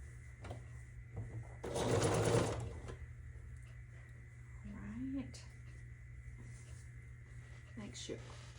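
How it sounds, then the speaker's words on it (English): Sewing machine stitching precut jelly roll quilt strips together, a steady close run of rapid whirring lasting about a second, with faint room noise and a soft voice around it. "Sew these together."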